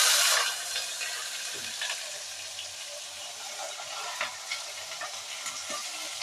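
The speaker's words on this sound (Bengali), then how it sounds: "আর পেঁয়াজটা আমি এর মধ্যে দিয়ে দেবো।" Rinsed, still-damp onion hits hot oil with cardamom, flaring into a loud sizzle at first that settles into a softer, steady frying hiss with faint stirring scrapes.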